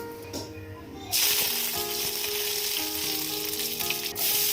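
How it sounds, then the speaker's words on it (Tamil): Mustard seeds and curry leaves hit hot oil in a pan and burst into a loud, sudden hiss that holds as a dense, steady sizzle, dipping near the end then flaring again. "ஒரு பேனில் எண்ணெய் விட்டுட்டு கடுகும் கருவேப்பிலையும் போட்டு தாளிச்சிடலாம்"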